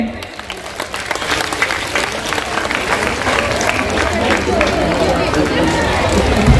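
Crowd applause at a girls' school annual cultural function, steady clapping mixed with hubbub of voices that swells slightly toward the end.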